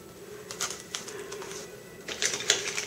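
Tape is pulled from a roll and pressed down while building a diaper Jeep: short crackly ripping bursts in two clusters, close and fairly quiet against a faint steady hum.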